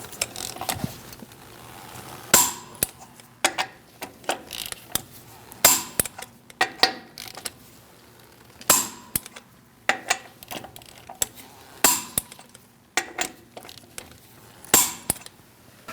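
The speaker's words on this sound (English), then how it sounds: "Let's torque our wheel. We're going to do that in a star-like pattern." Wheel lug nuts on a 2006-2011 Chevrolet HHR being torqued to 100 foot-pounds with a torque wrench in a star pattern, giving a series of sharp metallic clicks and clacks spaced every second or two, close and fairly loud.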